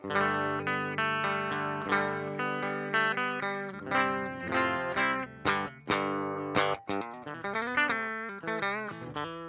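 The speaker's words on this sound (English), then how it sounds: "You get this amp. I think it's supposed to be a Roland Cube." An electric guitar plays chords and short riffs through a modeled Roland Cube amp with chorus and slight distortion, notes ringing and cutting off in bursts, no talking.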